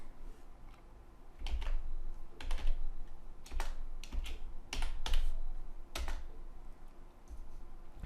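Typing HTML code on a computer keyboard, with clusters of crisp, close key clacks arriving in irregular bursts over a steady low background hum and no speech.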